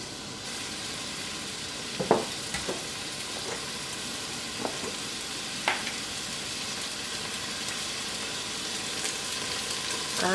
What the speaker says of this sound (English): I'm gonna add my onions.